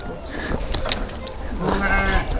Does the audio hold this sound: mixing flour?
no